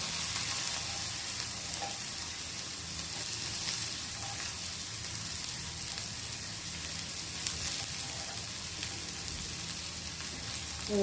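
Chopped onion goes into hot oil already holding garlic and asafoetida, giving a dense, even, hiss-like sizzle that runs throughout with only faint stirring touches and no talking.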